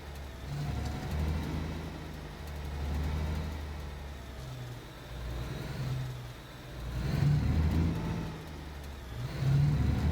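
In the Alaskan Road Truckers driving game, a semi truck's engine drones without a trailer, with a low, steady rumble that rises and falls gently as it revs for ten seconds.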